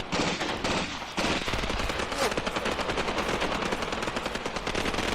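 Dense battlefield gunfire from the WWII tactical game Graviteam as German positions are assaulted: rapid machine-gun bursts and overlapping rifle shots crackle continuously and loudly, forming a sustained fusillade with brief pauses.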